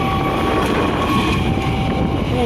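The Argo Wilis train passes a level crossing at Maos, Cilacap, with a loud, close, continuous rumble of wheels on rails, rhythmic clatter and a faint high squeal.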